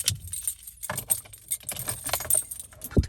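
A bunch of car keys for a 2022 Toyota Camry LE jangling and clinking close by, with a brief louder knock at the end.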